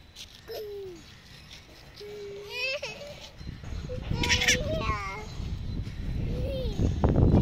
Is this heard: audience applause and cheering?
no